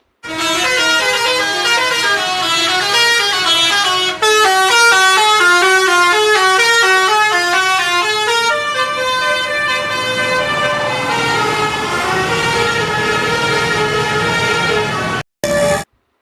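A bus horn honks in a playful toy-demonstration setting, sounding as a long, loud run of rapid repeated tooting notes in a melodic pattern, then a sustained blare, a brief cut and a final short blast.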